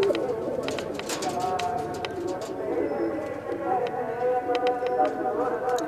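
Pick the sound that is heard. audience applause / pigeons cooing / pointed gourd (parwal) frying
pigeons cooing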